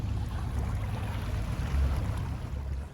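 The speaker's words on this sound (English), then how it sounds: "that's the level of engine noise you expect. It's very, very minimal" An Interboat Intender 820 motors along the Thames with a low, very quiet engine hum, steady and faint beneath soft water and ambient noise.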